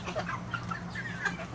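Eight-week-old Cornish cross chickens cluck and cheep in a coop, a busy flock chorus of overlapping short calls over a steady low hum.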